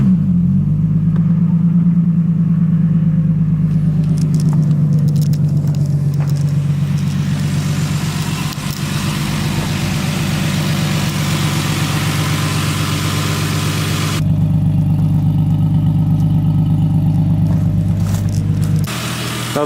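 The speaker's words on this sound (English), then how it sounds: "So what I'd like to do now is just start the car up and then let it idle for a little bit" A Lexus IS300 fitted with an HPS intake idles steadily for the full stretch, its low engine hum loud and close with no talk over it.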